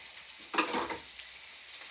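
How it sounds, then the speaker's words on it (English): Onions and spinach fry and sizzle in a pan while being stirred with a spatula, a steady close hiss that swells briefly as the food is moved, no talking. "Add the onions and the spinach."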